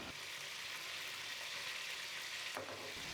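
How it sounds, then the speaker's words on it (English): Steady, soft sizzling of maodou cooking slowly in a pan, a continuous low hiss with a faint clink near the end. "This has been very slowly frying for a couple of minutes now."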